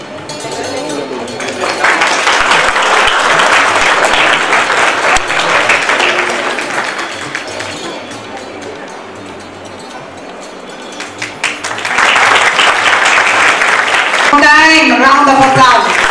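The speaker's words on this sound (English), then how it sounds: "round of applause." An audience claps for school staff gathered on stage at an academy's annual function, loud sustained applause that swells, eases for a moment, then rises again, with a voice briefly speaking over it near the end.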